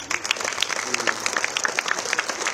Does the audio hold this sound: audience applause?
yes